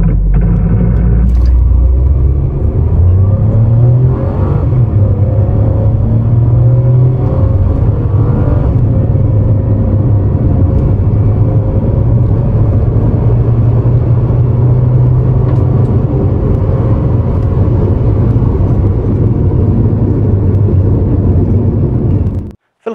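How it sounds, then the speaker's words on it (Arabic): A 2021 MG ZS with a 1.3-litre turbocharged three-cylinder engine accelerates hard, its loud, steady engine drone and road rumble rising in pitch for about twenty seconds before cutting off abruptly at the end. "راح نعمل عليه تسارع فقط عشان نعرف عمليه النشاط"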